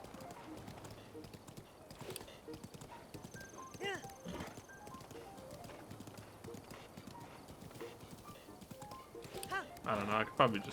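Horse hooves clip-clop at a steady gallop in The Legend of Zelda: Breath of the Wild, close and continuous, with a brief whinny and a louder burst of rattling near the end; a person talks over it at times.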